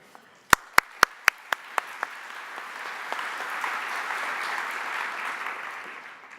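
An audience welcomes Yann LeCun at the IJCAI-ECAI 2018 conference. A few sharp, distinct claps come first, then steady applause from the crowd swells, fills the room and holds.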